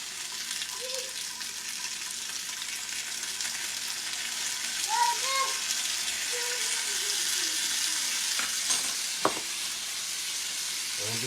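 Chopped garlic frying in oil gives a steady, fairly soft sizzle throughout, with a few brief higher clinks and chirps midway and a sharp tap near the end.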